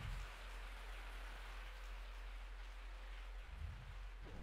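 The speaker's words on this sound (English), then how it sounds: "I woke up to the sound of falling rain." Falling rain in the Resident Evil video game makes a soft, constant hiss of steady rainfall, faint and unbroken throughout, with no voices.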